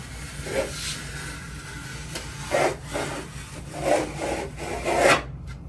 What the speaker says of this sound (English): this will be that angle that I need to cut off in order to compensate for the slope of the pan